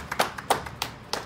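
A small group claps at a company management gathering, a few loose, uneven handclaps in quick irregular bursts, close and clear, without talk.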